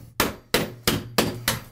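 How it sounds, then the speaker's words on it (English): A hammer smashes old tile off a drywall bathroom wall above a tub: five hard, sharp impacts at a steady rhythm, close and loud, with no talking. "So when I'm smashing things out now to remove the wall"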